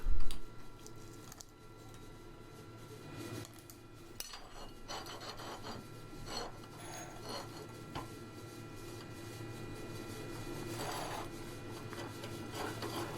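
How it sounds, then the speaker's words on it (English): An old knife, rusted from sitting five years, gets its rust scrubbed off with a steady rasping, rubbing stroke that repeats up close, with occasional sharper scrapes and no voices. "I'm just going to quickly take the rust off"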